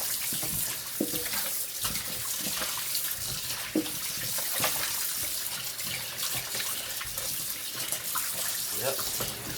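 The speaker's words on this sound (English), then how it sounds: "We're going to give them another rinse." Tap water runs steadily into a kitchen sink as oxtail is rinsed, a continuous splashing wash with small clinks and movements mixed in.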